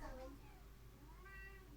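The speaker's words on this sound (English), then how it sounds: "This is my cute little cat." A small fluffy cat meows a few times close by, the cries rising and falling over a steady low room hum, with a voice speaking faintly underneath.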